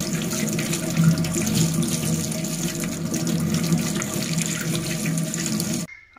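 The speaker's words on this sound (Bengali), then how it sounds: "এদিক থেকে আমি একটি আপেল ধুয়ে নিচ্ছি" Running tap water splashing over an apple being washed in a sink, a loud, continuous rushing stream close by, cut off abruptly at the end.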